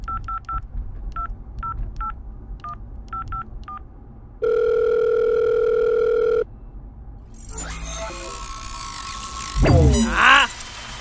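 A series of short beeps like phone keypad tones, then a steady ringing tone for a couple of seconds, followed by clicks and noisy rustling.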